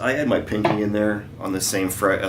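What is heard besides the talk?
No everyday noises stand out.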